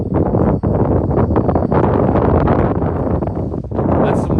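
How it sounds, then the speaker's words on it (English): Strong wind gusts in a snowstorm batter the microphone outdoors, a loud, continuous buffeting rumble that surges and drops in uneven pulses, with no talking. "That's some wind gusts coming our way"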